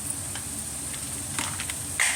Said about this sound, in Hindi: अब इन सारे मसालों को मैं भून लूँगी